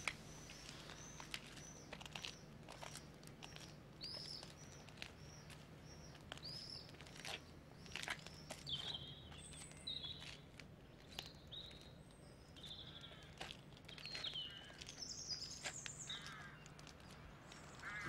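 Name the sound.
evening birds flying up to roost, crows cawing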